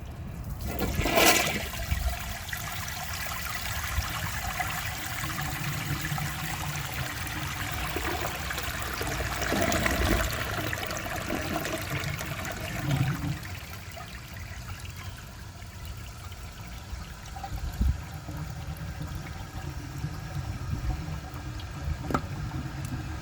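A 2003 Kohler Serif toilet flushes with its tank overfilled, a loud rushing swirl with gurgles that trails into a long trickling refill, with no voices.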